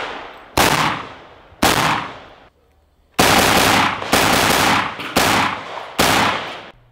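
Krebs AK rifle chambered in 5.45 with a muzzle brake firing outdoors, loud sharp shots: two single reports, then a brief pause and a rapid string of four closely spaced shots, each with a ringing tail.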